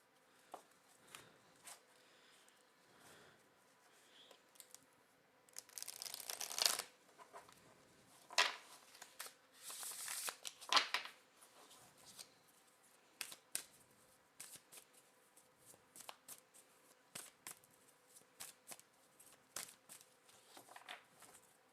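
Tarot cards are shuffled in two riffling bursts, then soft card handling and light taps continue, close and quiet, with no talking.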